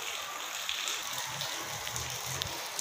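Heavy rain falls in a continuous, dense hiss, with soft splashing close by and no voices.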